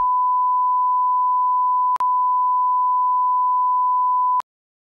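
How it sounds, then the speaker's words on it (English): A pure, steady 1 kHz sine test tone held for several seconds, interrupted by a brief click midway, then ending with another click. "So I have here a generated a monochromatic signal. The frequency is 1 kHz."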